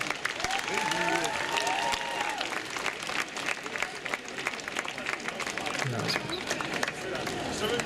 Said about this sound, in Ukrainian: Підтримайте оплесками!